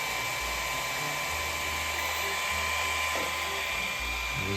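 An 800kV MAX5 EZRUN motor fitted in an MCD XS5 RC car revs with a steady, high electric whine that holds evenly throughout, close and continuous.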